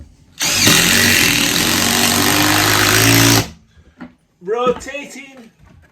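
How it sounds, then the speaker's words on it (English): A rotating hammer impact driver whirs loudly and continuously for about three seconds during bathroom work, then stops, followed by a person talking nearby. "This is a hammer rotating"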